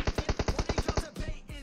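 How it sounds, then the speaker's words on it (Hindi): Enemy players firing in PUBG/BGMI: a fast, evenly spaced string of about ten loud automatic gunshots, then a couple of heavier, more scattered shots, with no talk. "भाई ये बंदे फायर करते"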